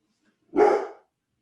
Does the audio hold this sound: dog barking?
yes